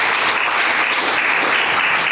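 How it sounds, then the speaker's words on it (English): An audience at an academic AI and bioethics event applauds, a dense, steady burst of clapping from many hands filling the whole moment without pause. "So applause for them."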